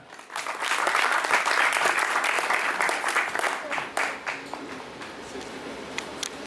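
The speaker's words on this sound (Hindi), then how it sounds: "प्रवीण सुधाकर जी, जोरदार ताली।" A poetry gathering's audience breaks into loud applause for poet Praveen Sudhakar, a thick burst of clapping that swells quickly, holds, then thins and tapers off toward the end.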